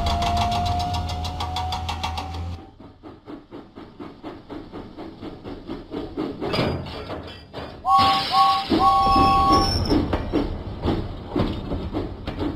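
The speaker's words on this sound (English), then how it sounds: "James pumped his pistons and puffed out of the docks." Steam engine puffing away in a Thomas & Friends video game, steady rhythmic chuffs building after a quiet start, with a short two-note whistle in the middle and game music underneath.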